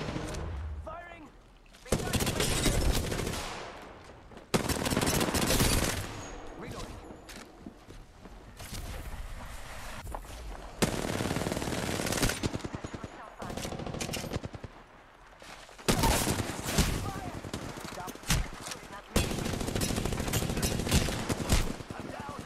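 Repeated bursts of automatic gunfire in Apex Legends, loud and close, come in several volleys separated by short pauses, with a player talking over parts of the action.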